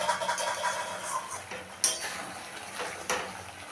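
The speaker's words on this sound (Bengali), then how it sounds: "এখন আমি এটাকে একটু নেড়ে দেব।" Cauliflower roast cooking in a pot is stirred, giving soft, faint scraping and light clinks of a spoon against metal, with a couple of sharper taps amid a hissy background.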